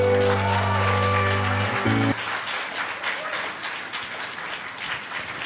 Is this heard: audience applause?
yes